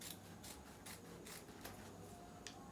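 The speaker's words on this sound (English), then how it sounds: "I'm just going to go ahead and cut" Scissors snip through fabric while a DIY wrap dress is cut out, a quiet series of rhythmic crisp cuts, close and soft, with no voices.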